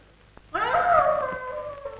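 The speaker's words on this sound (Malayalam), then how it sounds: "ഈ പട്ടി എന്തോന്ന് കിടന്ന് പോകുന്നത്?" A dog gives one long, wavering howl that rises and then slowly falls away, fairly close and loud against a quiet background, in a Malayalam horror film.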